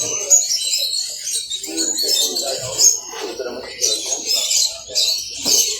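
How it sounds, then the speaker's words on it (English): A bird toy at a bird fair in Lawrence, Kansas gives repeated high chirps and tweets throughout, close and fairly loud, while a person talks at the same time. "That was a toy, bird toy."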